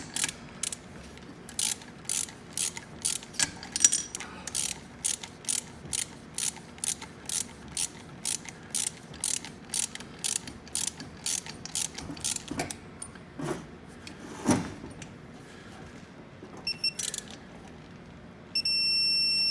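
Ratchet wrench with a 13 mm socket clicks in quick, regular bursts while working crankcase bolts on a Rotax 503/582 engine, close and crisp, with a few pauses and knocks near the end.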